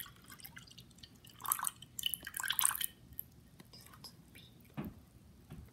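Liquid glugs and splashes as it is poured from a bottle while making slime, a faint, irregular burst of drips and trickling that fades to quiet with a couple of later soft drops.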